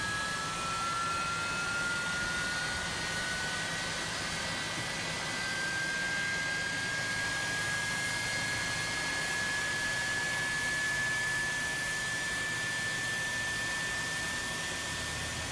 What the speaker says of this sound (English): Listen to those engine sounds, guys.